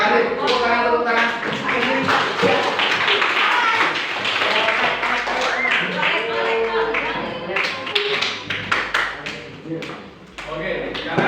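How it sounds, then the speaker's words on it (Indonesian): A classroom group at a school seminar on positive culture claps in applause, a dense clatter of hands mixed with lively voices throughout, thinning into scattered claps near the end. "Tepuk tangan."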